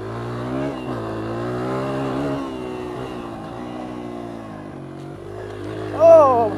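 Honda XR100 dirt bike engine idling and revving on a woods trail track, a steady close mechanical drone that rises briefly near the end, with a voice talking over it.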